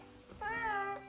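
A cat gives a single close, drawn-out meow that sounds slightly annoyed, rising and then falling, with no other sound around it.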